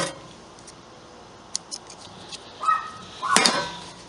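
Scissors trim a Carhartt garment with a few quiet snips, then a louder pair of cuts toward the end, set against a faint outdoor background.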